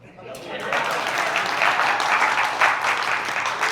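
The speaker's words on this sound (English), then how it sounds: "clap it up if you're not a pedophile" A comedy club crowd breaks into clapping that starts from quiet and quickly swells into a loud, dense, sustained round of applause close by.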